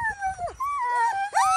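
Team sled dogs in Willow, Alaska, before their annual Thanksgiving run, let out overlapping howls and rising whines in a close, loud chorus with several voices joining and breaking off.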